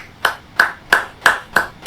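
Six evenly spaced, crisp hand claps ring out in steady rhythm, each sharp and close with a short bright decay, captured in a virtual reality spatial recording with no talking.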